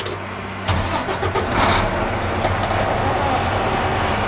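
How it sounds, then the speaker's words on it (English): A truck's diesel engine cranks and catches, then settles into a steady rumbling idle. The sound is heard close up at a pre-trip inspection, with a brief talking voice over it. "Start the truck."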